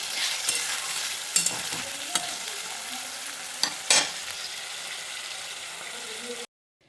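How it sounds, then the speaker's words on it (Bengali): Chicken pieces lightly frying in a pan, a steady close sizzle punctuated by a few sharp utensil clinks, then a sudden cutoff. "চিকেনটাকে একটু হালকা ভেজে নেব"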